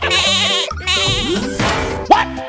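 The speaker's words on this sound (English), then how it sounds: "Goat." A goat gives a few loud, close bleats in quick succession, wavering and nasal, followed by a brief higher cry near the end.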